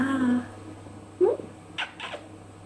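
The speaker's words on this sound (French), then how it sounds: "oui, c'est un beau chat" A cat meows indoors, a drawn-out cry followed by a shorter rising one and a couple of faint sounds, close to the listener over a low steady hum.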